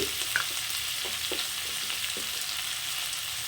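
Grated ginger being mixed with other ingredients in a hot frying pan, a steady sizzle with a few soft stirring scrapes, fairly close and continuous.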